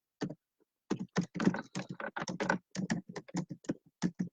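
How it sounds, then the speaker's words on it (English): Keys being typed on a computer keyboard in quick, uneven bursts of clicks, close and clear with no talking over them. "Look, I'm just typing away."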